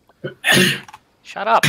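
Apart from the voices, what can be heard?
sneeze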